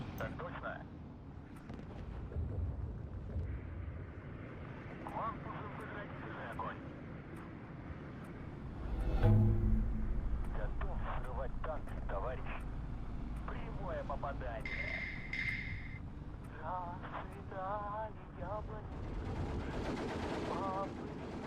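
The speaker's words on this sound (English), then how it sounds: "artillery coming in is not good for us at all" Distant artillery and gunfire rumble in the WW2 real-time strategy game Steel Division 2, a heavy thump midway followed by lingering low booms and scattered shots, with someone talking throughout.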